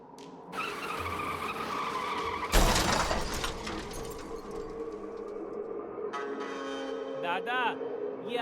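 A cartoon motorbike skids with a long tire squeal, then crashes with a loud, sharp smash about a third of the way in, followed by lingering screeching and clatter.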